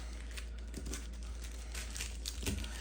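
Parchment paper folded in half and creased, giving soft, quiet crinkles and rustles in a few short bursts, alone, with no talk.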